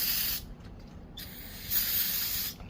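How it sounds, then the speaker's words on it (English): Carb cleaner sprayed onto a Honda CT70 carburetor: close, loud hissing bursts, one short spray, a pause, then a longer spray, with no talking. "Throw some carb cleaner on here first."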